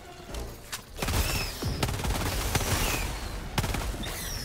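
An R-36 Eruptor explosive rifle fires in Helldivers 2, with heavy, punchy shots and booming impacts in quick succession. The dense, loud gunfire runs almost continuously over a noisy battle backdrop.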